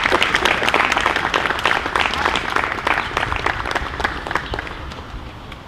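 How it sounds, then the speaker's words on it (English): Audience applause rings out at a graduation ceremony, a dense, steady wash of many hands clapping that holds for several seconds before tapering slightly near the end. "Let's recognize them with a round of applause."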